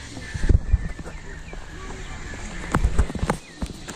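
Horses on a hilly village road near a Nepali market, hooves clip-clopping in short bursts around the start and near the end, fairly close, with low background noise between.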